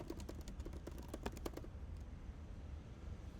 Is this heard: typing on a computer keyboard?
yes